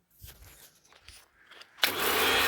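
A power drill starts up abruptly after a quiet stretch of faint handling noise, then runs at a steady, loud whir to the end, during work on a 2016 D-Max diff drop.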